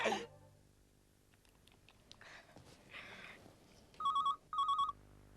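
A telephone rings in two distinct bursts near the end, following faint room noise and scattered clicks, with no talking.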